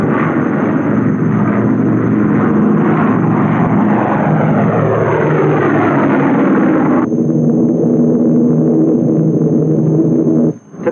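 A pilotless drone jet aircraft flies during the 1951 Operation Greenhouse nuclear tests, giving a loud, continuous roar that drops off sharply partway through and then carries on as a lower rumble.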